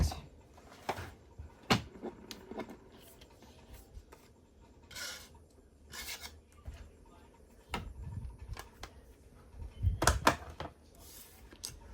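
Paper being cut out by hand for a Stampin' Up! birthday card, heard as faint, scattered snips and rasping rubs with quiet pauses between, close by and without speech.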